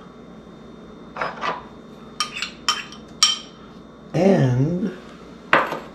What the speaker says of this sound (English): I'm going to do my best to mix this all together now